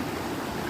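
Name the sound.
river water flowing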